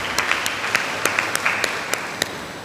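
Applause at a church gathering: a brief, fairly faint patter of many hands clapping, with a few sharper individual claps standing out over a steady background wash.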